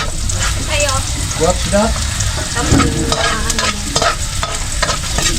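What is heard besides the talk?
eggs frying and being scrambled in a pan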